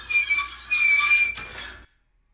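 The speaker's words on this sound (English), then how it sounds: "Listen to the sound I recorded of me closing a squeaky iron board." A squeaky ironing board is folded closed, its metal hinges letting out a loud, drawn-out high-pitched squeal with wavering tones that ends abruptly in silence.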